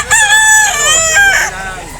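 A bullstag rooster at an outdoor animal market gives one loud, close crow, a drawn-out cock-a-doodle-doo that rises and then trails off, with faint background noise.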